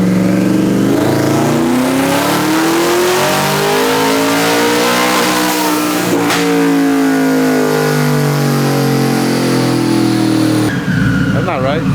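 A twin-turbo Shelby truck engine revs hard, its pitch sweeping up and down in long loud pulls with turbo whine on top, then drops suddenly near the end.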